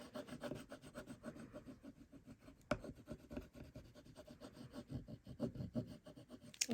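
A small craft tool rubbing along the edge of a flip flop paper folio, a soft, faint, steady scratchy back-and-forth with one sharper click partway through.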